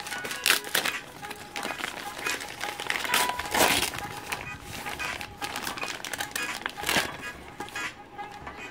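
Gift wrapping paper is torn and crumpled open in a series of irregular rustling, crinkling bursts, fairly close and continuing throughout.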